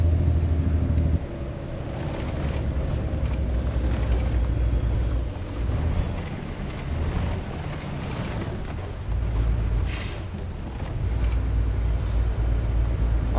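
Heavy truck engine in American Truck Simulator labouring up a hill close to stalling, a deep, loud, continuous low rumble that dips and surges as the load bears down, with no talk over it.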